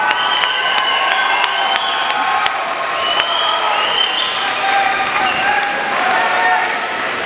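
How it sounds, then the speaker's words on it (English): Crowd applause and cheering fill a gym at a boys' high school basketball senior night, with loud clapping, scattered whoops and shouts, and a few sharp claps standing out near the front. "big round of applause."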